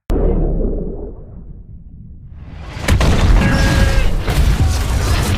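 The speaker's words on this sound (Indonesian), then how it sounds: "tiba-tiba kapal selam Tampa Bay pun akhirnya meledak diterjang oleh torpedo musuh" A submarine, the Tampa Bay, explodes from a torpedo hit in the film Hunter Killer: a deep, rumbling boom swells and fades, then a second heavy explosive blast erupts with crackling debris and a sustained roar.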